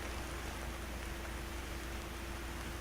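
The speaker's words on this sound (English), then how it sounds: "I really gotta stop listening to this rain, because it literally makes me tired." Steady rain falls in a video game, a dense even hiss of drops on surfaces that runs without a break at moderate-low level, with no talk.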